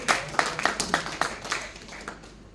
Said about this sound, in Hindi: बीच बीच में तालियां भी होते रहनी चाहिए